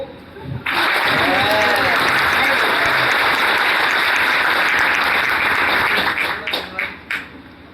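Loud, dense applause from an audience at a talk erupts suddenly and sustains as a thick roar of clapping, then tapers into scattered claps at the close.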